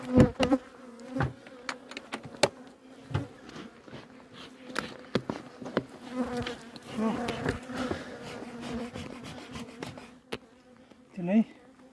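Honey bees swarm around opened beehives during an October pine-honey harvest and colony inspection, a dense, steady buzzing close by with scattered sharp knocks and faint voices underneath.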